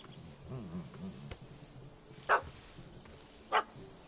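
In The Witcher video game, a dog barks at a cat that has fled up a tree: two sharp barks break through quiet background ambience.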